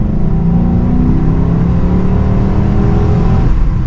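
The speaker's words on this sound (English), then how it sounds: "I guess my car has a unique exhaust note with a little tweed at the end" A Dodge car engine revs loudly and close, holding a strong, steady exhaust drone that climbs slightly in pitch, with a short change near the end.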